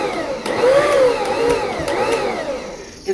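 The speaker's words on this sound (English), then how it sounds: "I just pulse this just a little bit, and it's got cookie paddles on the beaters" A stand mixer fitted with cookie paddles on the beaters pulses through cheesecake batter, giving a steady loud motor whir with rising and falling pitch across a few seconds and no talking.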